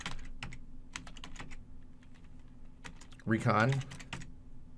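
Keys clack on a computer keyboard in quick, irregular bursts of sharp clicks, close and fairly quiet, while a voice speaks briefly over the typing partway through.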